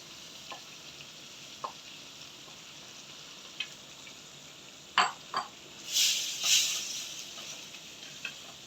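Precooked beef dropped into an onion masala and frying, with scattered light clicks of the utensil followed by two loud bursts of hissing sizzle close up, with no voices.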